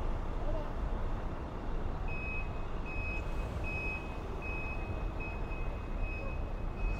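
A big truck backs up on a city street near the Capitol, its reversing alarm giving a string of evenly spaced beeps over steady traffic and street noise.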